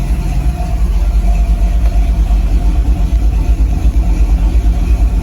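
A steady, low big-block car engine rumble idling nearby, constant and unchanging with a faint mechanical hum and no voices.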